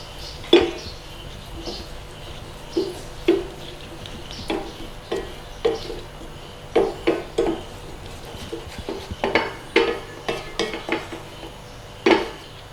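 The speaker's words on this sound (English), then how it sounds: "keep stirring because we don't want to burn it on the bottom of the pan" Sweet noodle sauce is stirred in a pan, the utensil clanking and scraping against the bottom in a steady series of distinct knocks, close and fairly loud, with no talking.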